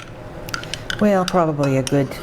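Sweet pickle relish is spooned into a bowl for a plant-based tuna salad, giving a few light spoon clinks against the bowl before a voice comes in over the top.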